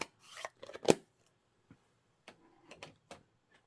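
Scissors snip paper while fussy cutting for card making, producing a few close, crisp cuts and rustles in short bursts separated by quiet pauses, with no talking.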